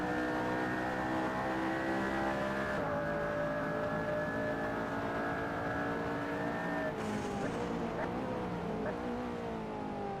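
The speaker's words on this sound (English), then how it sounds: "this was my fastest lap attempt" Hypercar engine screaming through a racing game lap, a loud, continuous high-revving tone with gear shifts where the pitch drops and climbs again, along with tire noise and no talking.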